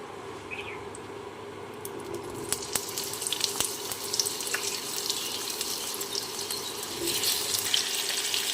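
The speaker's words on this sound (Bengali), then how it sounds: "কড়াতে তেল গরম হতে দিয়ে দিয়েছি প্রথমে আমি আলুটা ভেজে নেবো" Potatoes fry in hot oil in a kadai, giving a continuous hissing sizzle that holds steady throughout and swells slightly near the end, with a few faint clinks.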